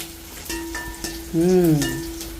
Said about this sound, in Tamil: உள்ளி வெங்காயம் பச்சை மிளகாய் பெருஞ்சீரகம் கடுகு எல்லாம் போட்டு தாளிச்சாச்சு